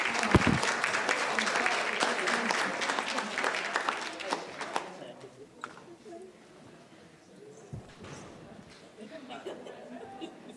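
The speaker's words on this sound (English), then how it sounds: "a big round of applause" Big round of applause from the audience at a scholarship recipients event, loud and dense at first with voices mixed in, then thinning to scattered claps and murmuring.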